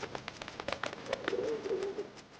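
Pigeons cooing at a pigeon club in Raploch, Scotland, a low soft warbling coo over a faint clattering background, fairly quiet and somewhat distant.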